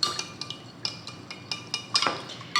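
A drink of beer with lime juice and chamoy stirred in a glass, a spoon clinking against the sides in a quick, irregular series of bright taps, close and alone.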